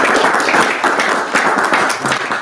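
Warm applause from a group at a book talk on decentering whiteness in the workplace, a fairly loud, continuous wash of clapping hands with no voices.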